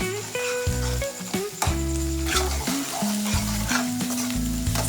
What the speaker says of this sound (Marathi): पुन्हा पेस्ट द्यायची टाकून पण हलवून घ्यायची ती पेस्ट.